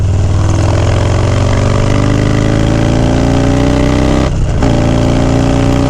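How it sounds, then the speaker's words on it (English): A motorcycle engine runs on back roads during a solo road trip, a loud, close, continuous drone whose pitch climbs steadily as it accelerates, with a brief dip in the middle. "this bike wants to be on the highway"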